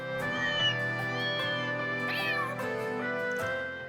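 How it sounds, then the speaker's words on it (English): Cute cat meows in the game Trails Beyond the Horizon, several short, clear mews spread across the span over soft steady music. "the collection of cute cat sounds I recorded in the capital"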